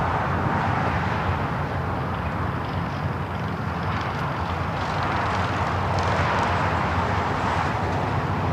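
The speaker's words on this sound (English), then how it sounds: "Eva Air Cargo, the 777 freighter, next heavy arrival here on the south side" A heavy EVA Air Cargo Boeing 777 freighter arriving on the south side at Los Angeles International Airport, a steady loud broadband jet roar that holds throughout without breaks, no voices over it.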